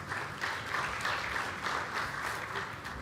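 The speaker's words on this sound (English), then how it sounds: "One round of applause for the ED Captain Tiden Bar." An audience at an aviation week gathering applauds a civil aviation official, a steady wash of many hands clapping, even and sustained, heard at moderate distance.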